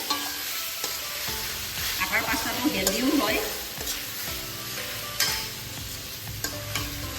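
Atta (whole-wheat flour) pasta stir-fried in a pan over high flame, a steady sizzle with scraping and clattering stirring strokes throughout, while a voice speaks briefly over it.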